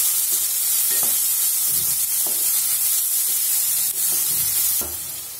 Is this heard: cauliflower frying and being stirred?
yes